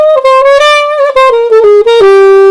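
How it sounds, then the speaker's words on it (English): A single melodic line of clear, sustained notes stepping gradually downward, guide tones outlining a major 2-5-1 chord progression, played on an instrument close and loud, with short gaps between notes. "you can hear that I played a chord progression there"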